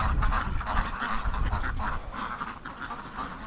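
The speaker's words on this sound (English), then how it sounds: "there's a bunch of ducks in here. Muscovies." A flock of Muscovy ducks in a building gives off overlapping honking, hoarse calls, a continuous close chorus under low background noise, with no talk.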